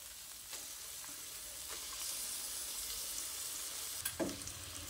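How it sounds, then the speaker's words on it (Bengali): Ground cabbage paste being stirred with spices in a pan for a Bengali cabbage bharta, a soft steady sizzle with occasional scraping strokes of a utensil, slightly louder toward the end. "এবার বেটে নেওয়া বাঁধাকপিটা দিয়ে সব কিছু মশলার সঙ্গে খুব ভালো করে মিশিয়ে নিচ্ছি।"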